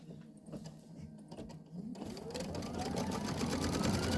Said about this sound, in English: It's going to do that first line of stitching.